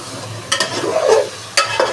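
Aloo palak (potato and spinach) cooks in a pan with a soft sizzle underneath, while two distinct scraping stir strokes cut in close by.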